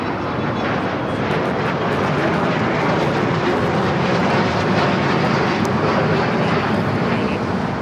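A China Airlines A350 airliner at LAX produces a loud, continuous engine roar close by that holds steady from start to finish, with no clear talk over it.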